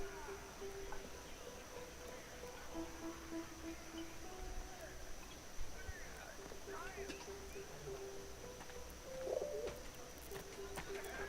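Soft pigeon coos repeat in the World War I game 11:11 Memories Retold over a low ambient hum, the calls faint and spaced out, with a brief brighter flutter near the end.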